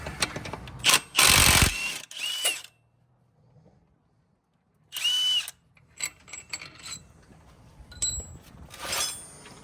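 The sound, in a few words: power tool removing motorcycle clutch bolts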